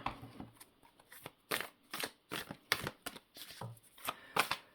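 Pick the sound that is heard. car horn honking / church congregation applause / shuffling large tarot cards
shuffling large tarot cards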